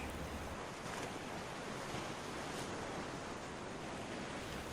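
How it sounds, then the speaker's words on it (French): Ocean waves roll onto a sandy shore in a continuous loud surf wash with no break, alone and without speech. "Le bruit des vagues qui frappent avec panache le sable"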